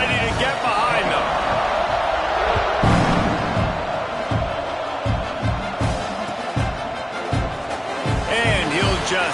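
A football stadium crowd roars at kickoff, a dense, steady wash of cheering that stays loud throughout, with a commentator talking over it.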